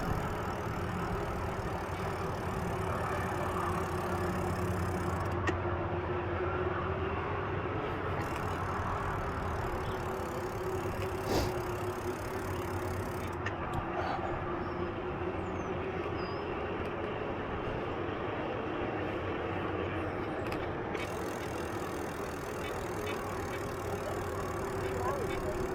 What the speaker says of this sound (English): The only thing you hear are the noises of the tires